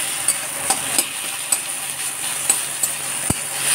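Minced potato fries in a pan with a loud, continuous sizzle, broken by regular sharp scrapes and taps of a spatula stirring it, close up and without talking.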